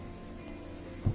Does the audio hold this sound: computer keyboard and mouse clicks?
no